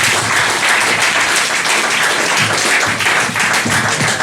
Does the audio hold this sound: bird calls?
no